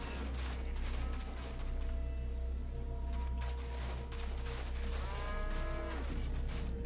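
Several cows moo in long, drawn-out calls over a steady low background hum, one after another, fairly close, in the video game Wasteland 2: Director's Cut.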